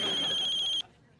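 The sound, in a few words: telephone ringing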